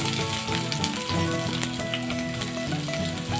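Onion dropped into hot oil for a savoury semolina upma crackles in a dense, continuous sizzle, with steady tonal sounds running underneath and no voices.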